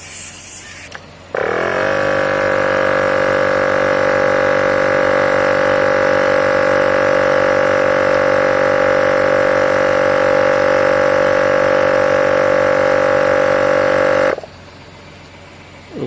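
A myTVS digital tyre inflator (Ti86) pumps up a car tyre, its motor starting with a surge and then droning at a steady, loud, close hum for about thirteen seconds before cutting off abruptly.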